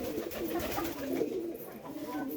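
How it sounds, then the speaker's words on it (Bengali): Racing pigeons coo in a rural backyard loft, a steady, close run of soft, throaty calls that continues without a break. "এখানে আছে আমার রেসার কবুতর"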